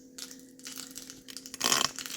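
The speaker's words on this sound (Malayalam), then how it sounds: "കുരുമുളക് ഇട്ടിട്ട് ആദ്യം വറുത്തെടുക്കും" Black pepper roasting in a pan with cumin and cashews for pongal, heard as quiet scattered crackles and pops, then a louder burst of crackling near the end, with no talk.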